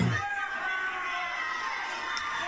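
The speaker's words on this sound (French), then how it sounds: "la foule est à fond dedans" A roaring virtual arena crowd in a wrestling video game cheers steadily and loudly throughout, a dense wash of shouting and whooping with no pauses.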